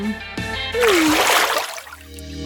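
A vegetable is dropped into water during a chocolate fountain fondue challenge, producing a brief splash and slosh with a whistling tone before it and quieter sounds after.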